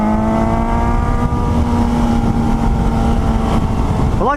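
Loud, close exhaust burble from a 2018 Suzuki GSX-S 750 motorcycle engine holds a steady droning pitch under heavy wind roar, then briefly climbs at the very end; no one speaks.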